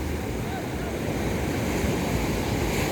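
Sea waves roll continuously against the shore with a dense, steady wash of surf and wind noise, loud and close throughout, no voices present.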